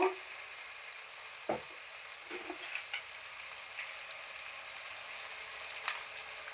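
Turmeric, salt and chili powder frying in oil in a pan for a chicken gravy curry, a faint steady sizzle broken by a few soft knocks from stirring.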